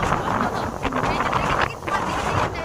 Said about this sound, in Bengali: কি ঠান্ডা হাওয়া